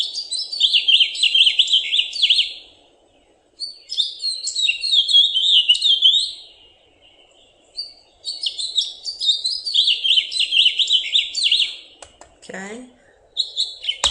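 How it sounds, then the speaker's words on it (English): A house finch sings long, complex warbling phrases of bright chirps, loud and close, broken by short pauses, with a brief spoken word near the end. "House finch."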